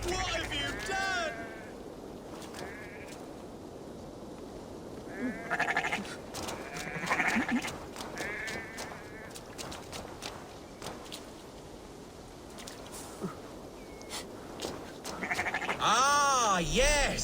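Sheep bleat repeatedly in the Assassin's Creed Valhalla video game, wavering calls near and far scattered across a low ambient bed, with a loud cluster at the close. Speech is heard in between.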